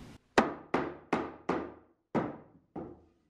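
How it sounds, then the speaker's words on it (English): Seven firm wooden knocks from a scrap 2x4 tapping tongue and groove siding into place on a film studio wall, evenly spaced with short ringing decays, close and loud with no talk. "I'm going to use a scrap 2x4 that I can put this on top of a large surface area and tap this down some."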